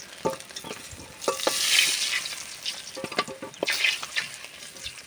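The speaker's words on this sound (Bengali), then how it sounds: "এরম লাল লাল করে মাছটা ভেজে নেবে" Fish frying until reddish in a hot pan, crackling in bursts with occasional scraping and stirring, close up and with no talking.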